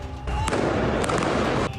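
Fireworks set off by protesters in Georgia crackle and bang in a dense, loud burst of sharp reports, several distinct pops standing out over a continuous roar of crowd noise.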